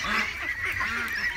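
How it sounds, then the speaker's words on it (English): A flock of about sixteen wild ducks calls nearby with a run of nasal, honking quacks, several birds overlapping across a short burst with no talking. "There was like 16 wild ducks here."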